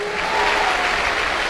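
Loud, dense applause from an audience at a Safeshop achievers' business event, sustained and steady from a nearby crowd with no talk over it.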